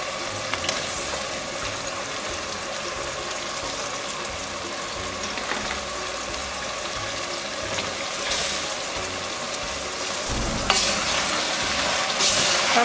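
Eggplant in a thickened tomato sauce sautés for the Muğla dish galle patlıcan, a continuous close sizzle with repeated scraping stirs and spoon knocks against the pan, and no voices.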